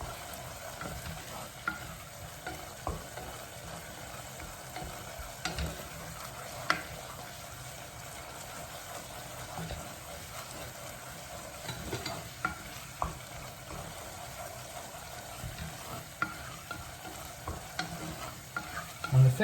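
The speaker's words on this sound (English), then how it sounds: "Constantly stirring" A mushroom, asparagus and courgette risotto is stirred constantly in a pan, with a soft continuous simmer and faint scraping and tapping of the spoon, no voices.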